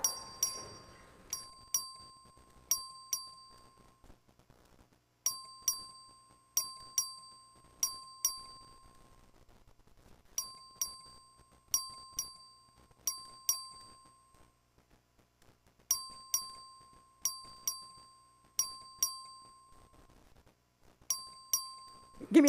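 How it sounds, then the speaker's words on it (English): An electric bell in the Texas House chamber rings for a record vote, sounding repeated bright clanging bursts in groups of four with short gaps, continuing steadily for over twenty seconds in an otherwise quiet hall. "The clerk will ring the bell."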